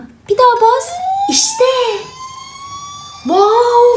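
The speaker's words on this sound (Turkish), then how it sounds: "Şimdi de sirenimize basalım. Seslerini dinleyelim." A toy fire truck plays wailing electronic siren tones, loud and close, with a rising and falling pitch and a brief gap before the next sound, while a child makes small noises nearby.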